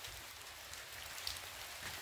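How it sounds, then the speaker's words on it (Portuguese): Heavy rain falls in the village of Cancelas, Camaçari, Bahia, a dense, continuous hiss of drops on surfaces, steady and fairly faint throughout the short stretch, with no voices. "chovendo aqui bastante"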